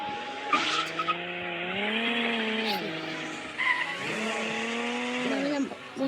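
A car pulls away hard with its tires skidding and squealing in sustained wavering screeches over a revving engine, close and loud, with a brief second squeal burst partway through.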